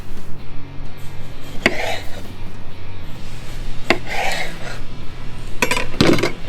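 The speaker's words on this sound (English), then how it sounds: "We can also take a slice of the grape wine tomato" Knife slicing through a grape tomato on a cutting board, three or four short crisp cuts with brief scraping between them, close and clear with no talking.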